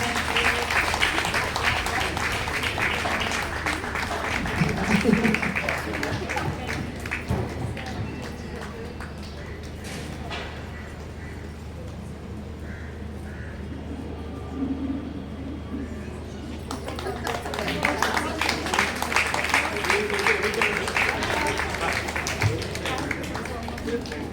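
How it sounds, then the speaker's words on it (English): Audience at a retirement ceremony for two teachers bursting into loud applause, which dips into a quieter murmur midway with voices talking, then swells again into vigorous clapping. "Huge round of applause."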